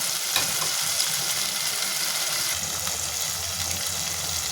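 Masala gravy for vegetable biryani sautéing in oil in a pan, a steady close sizzle and crackle of frying spices running throughout with faint stirring, no talk.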